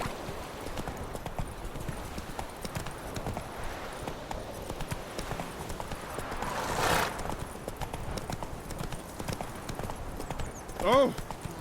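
Roach the horse's hooves in The Witcher 3, a steady, fairly quiet clip-clop rhythm that runs throughout, with a voice speaking briefly and a louder swell near the end.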